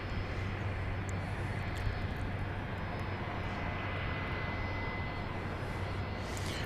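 A jet airliner at Dallas Love Field roars steadily and loudly throughout, a continuous broadband engine rumble with a low droning hum and no talk over it.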